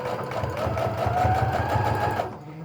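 A sewing machine runs a straight stitch through bag fabric with a standard needle and Gutermann thread, a steady close whirring hum with a fast rhythmic needle chatter that stops abruptly at the end.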